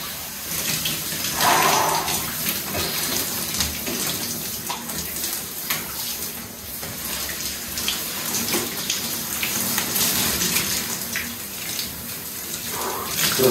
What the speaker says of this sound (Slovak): snažím sa aspoň 3-4 krát do týždňa si dávať takúto studenú sprchu ráno